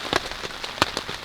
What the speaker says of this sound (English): enjoy the sound of the rain all night, I guess.